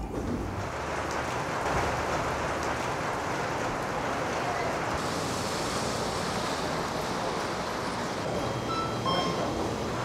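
Heavy rain pours steadily on a Taipei street, a dense, even roar that stays constant throughout with no break.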